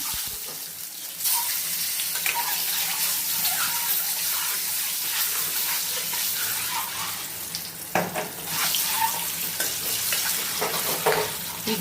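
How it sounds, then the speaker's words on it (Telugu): Eggs with turmeric fry in oil on a stove, giving a steady, close sizzle and crackle that runs without a break, with occasional stirring scrapes and no talk. "ఇప్పుడు కొంచెం పసుపు వేసాను, గుడ్లు వేపుతున్నాను నేను."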